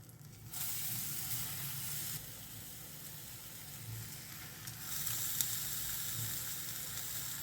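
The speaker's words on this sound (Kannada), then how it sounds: "ಎಣ್ಣೆ ಬಿಸಿ ಆದಮೇಲೆ ಒಂದೊಂದೇ ಬಾಳೆಹಣ್ಣನ್ನ ಹಾಕ್ಕೊಳ್ಳೋಣ" Plantains fry in hot oil on a low flame with a steady, close sizzle and hiss that swells as pieces go into the pan, no voices present.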